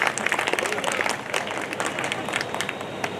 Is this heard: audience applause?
yes